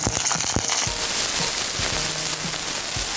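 Chopped garlic and dried chilies crackle and sizzle sharply in hot mustard oil for a beef kala bhuna tempering, a dense continuous spatter of pops close up with no talk.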